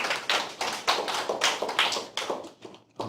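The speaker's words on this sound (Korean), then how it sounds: "박수로 환영해 주시기 바랍니다." Sparse clapping from a small audience welcoming a lecturer at a church gathering, a handful of distinct claps in an uneven rhythm that thins out toward the end, close and fairly loud with no talk over it.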